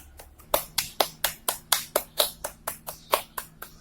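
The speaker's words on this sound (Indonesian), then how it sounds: "Silahkan berikan tepuk tangan untuk Rizkayani." A classroom of students gives about a dozen sharp hand claps in a steady, even rhythm, close by and fairly quiet, with a faint hum underneath.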